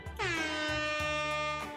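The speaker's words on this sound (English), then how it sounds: "We're going to do an air horn, because who doesn't want to hear an air horn blast?" A single loud air horn blast, a brassy sustained honk with a pitch bend at the start, holding for over a second before cutting off.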